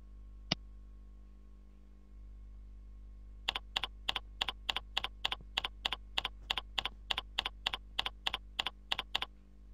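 Keys clatter on a computer keyboard while an outgoing mail server name is entered in Windows Mail, a quick steady run of about twenty sharp clicks after one isolated tap, close and clear over a quiet background hum.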